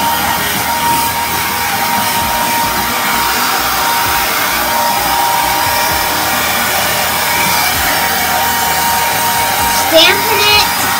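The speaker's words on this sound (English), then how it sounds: "So I'm putting it on medium, and you're just gonna dry your hair." A hair dryer running on its medium setting while drying hair: a loud, steady, close-up whooshing hum that holds constant throughout, with faint voice-like sounds near the end.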